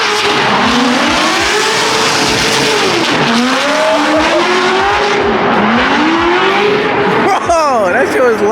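Formula Drift cars drifting through the streets of Long Beach, engines roaring and revving continuously with sustained tire squeal, loud and close, harmonics sweeping up and down as the cars slide; voices are faintly audible beneath.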